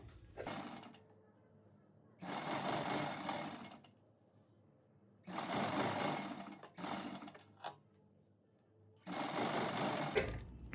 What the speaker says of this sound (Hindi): ये आप देख रहे हो इतनी दूरी पे हमने सिलाई लगानी है